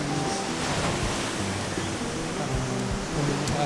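Surf washes steadily onto a beach in Phuket, Thailand, a continuous broad rush of breaking waves close by, mixed with a little wind, with no talking.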